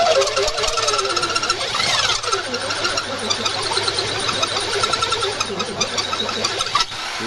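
A loud, steady grinding drone of a Dongcheng DZJ02-13 power drill boring into concrete, running continuously with slight wavering pitch throughout.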